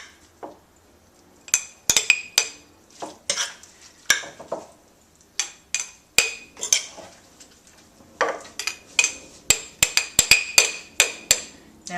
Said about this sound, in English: just put them right into the jar. Pack it down as tightly as you can.